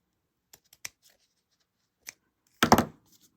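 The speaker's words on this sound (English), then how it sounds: "So let me start trimming just a bit." Scissors trim corrugated cardboard and a paper bag: a few faint snips, then one louder, crisp cut near the end, with quiet gaps between.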